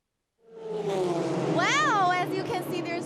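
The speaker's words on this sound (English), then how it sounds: "there's such a strong engine sound from background" Audi R8 LMS Cup race cars at Fuji circuit, a rising engine note that swells and sweeps in pitch as a car passes, loud and close, with a voice speaking over it.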